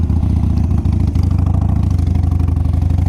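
A 2009 Harley-Davidson 883 Sportster engine rumbles steadily at close range, a loud, even, low-pitched lumpy idle with a clattering pulse and no voices.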